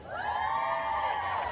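A crowd of spectators at the F1 in Schools UK National Final cheers and whoops for a team, a brief sustained roar of many voices heard from a distance.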